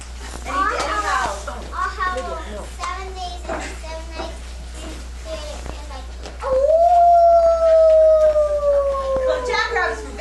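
A theatre actor imitates a coyote howl, a long rising then slowly falling voiced wail held for several seconds after a stretch of other vocal sounds, loud and close.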